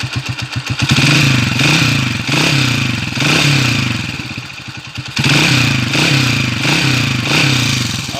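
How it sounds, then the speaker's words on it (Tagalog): A Motorstar Mulawin TMX155 motorcycle engine runs close by, revving up and settling in waves, with a rattling, clattering noise from a worn number 1 timing gear beneath the steady drone. "may naririnig siyang maingay dito sa kanyang makina"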